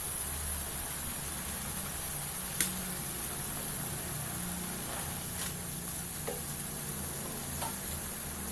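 Spices and leaves for jackfruit curry sizzle in a pan, a continuous frying hiss broken by a few sharp scrapes and taps as the mixture is stirred, close and steady with no talk.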